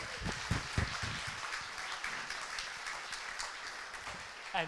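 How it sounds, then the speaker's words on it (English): Faint, fairly distant applause from an awards ceremony audience at the Thin Blue Paw Awards, a scattered crowd clapping with some low murmuring beneath it. "So please do give them another round of applause."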